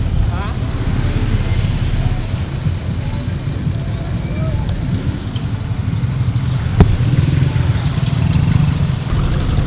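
A small motor tricycle engine drones steadily and loudly throughout a ride toward a shopping mall in Rosario, with road and wind noise mixed in and a brief sharp knock near the end.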